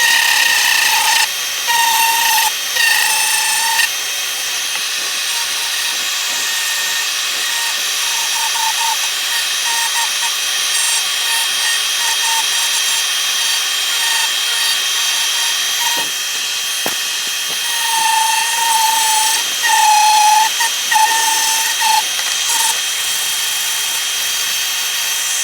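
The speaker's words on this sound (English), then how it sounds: "Now I'm going to use a drum sanding bit, and I'm going to take off the edge" A drum sanding bit on a power tool whines steadily while shaping the bowl of a yew wood spoon, a loud, close, continuous grind with slight changes in pitch as the bit bears into the wood.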